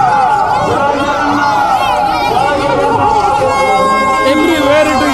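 Dense festival crowd at the Puri Ratha Yatra 2024, a loud, continuous babble of many voices, chatter and shouting close around, with no pause throughout.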